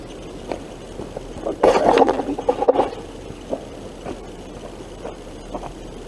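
A normal buffing pad scrubs a badly scaled window, a rough rasping rub that swells into a loud burst of scrubbing for about a second, with fainter scattered scrapes before and after.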